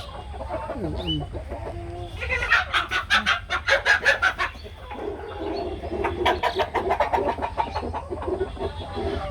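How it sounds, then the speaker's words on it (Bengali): Brahma breed hens on a small hobby farm cluck in quick rhythmic bursts close by, two clear runs of cackling over a steady low background hum, with occasional softer calls in between. "এই ব্রাহ্মা জাতের মুরগি"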